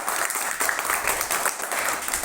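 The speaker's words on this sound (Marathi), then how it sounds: "सर्वांनी एकदा टाळ्या वाजवा आहे खेळासाठी" Students clap together before a coin-toss game at school, a steady, dense patter of many hands that holds for about two seconds at moderate volume.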